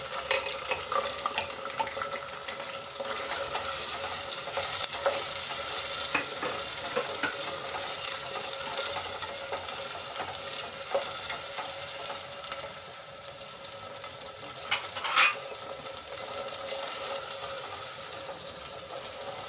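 Ginger-garlic paste and tomatoes fry in a pan, stirred with a spoon: a steady, close sizzle with scraping strokes throughout and a brief louder clink near the end, with no talking.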